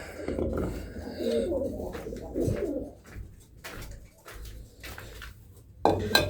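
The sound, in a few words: pigeons cooing in a loft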